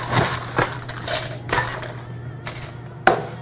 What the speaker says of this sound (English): top that up with a little bit of ice